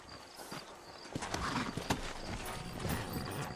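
Horse hooves clip-clopping in the video game Red Dead Redemption, a steady close walking rhythm of hoof strikes over a faint ambient bed.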